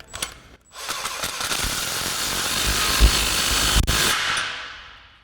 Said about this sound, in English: Now we can move on to our muffler inlet clamp, again with our 15 mil on our impact.